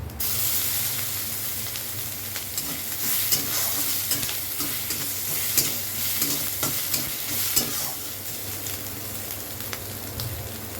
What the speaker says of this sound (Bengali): ফোড়নে দিচ্ছি শুকনো লঙ্কা তেজপাতা আর দিচ্ছি পাঁচফোড়ন আর দিচ্ছি আদা